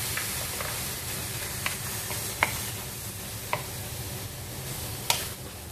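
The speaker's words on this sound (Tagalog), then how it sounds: "At hinalo, hinalo-halo." Pork ribs with black pepper sizzle steadily in a hot pan while a utensil stirs them, adding occasional sharp scraping clicks over the constant hiss.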